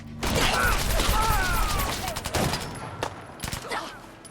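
Gunfire in Fallout 4 comes as a dense burst of rapid shots followed by scattered single cracks and mechanical clatter, close and loud, with brief talk mixed in.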